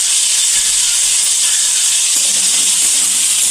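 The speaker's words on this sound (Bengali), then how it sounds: "এখন একটু ভেজে নেব আলু।" Potatoes with a little rock salt fry in a pan, a loud, continuous close hiss and sizzle with no pauses or voices.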